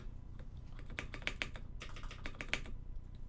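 Keys on a mechanical keyboard built on a carbon fiber plate are struck in an irregular run of sharp, close clacks, several sharper hits standing out, with no talk over them.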